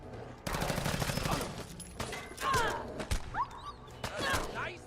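Gunfire in the video game Fallout 4, with bursts of rapid shots followed by scattered single cracks and impacts. Game effects and whooshes mix in at moderate loudness.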